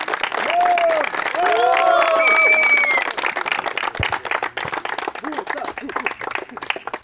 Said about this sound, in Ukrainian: Аплодисменти. Браво!